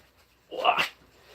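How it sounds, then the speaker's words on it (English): A big lap dog gives one short, soft bark or huff, brief and fairly close in an otherwise quiet room. "She's a big old lap dog."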